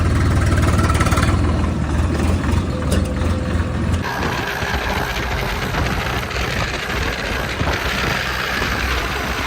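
A Swaraj 100 HP tractor engine idles close by, a loud steady diesel rumble that shifts to a rougher, slightly lower running note partway through, with no talking.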